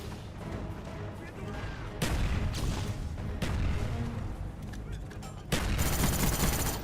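FAMAS rifle fire in the Modern Warfare video game, loud rapid bursts and booming shots over several seconds, with a voice talking faintly underneath.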